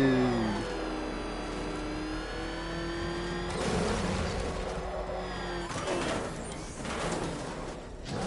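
A car engine revs in a video game as it spins donuts, tonal engine whine rising and falling with bursts of scrubbing noise, fairly quiet with other game sounds underneath.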